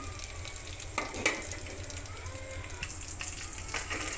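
Fish frying in hot oil in a pan, a steady soft sizzle running throughout with a few brief louder pops and crackles, no talking.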